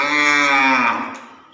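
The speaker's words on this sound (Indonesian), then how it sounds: "ini ada sapi pegon jumbo ini" A jumbo Pegon cow gives a single loud, close, drawn-out moo that fades away over about a second and a half.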